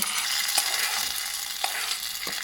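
Tempering fried in sesame oil sizzles as it is poured into vatha kulambu (sambar), a steady close hiss with a few light clicks and taps of the pan, and no voices.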